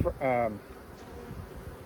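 Honey bees buzzing on a hive frame during an outdoor spring hive inspection, a steady close hum with one louder droning pass near the start.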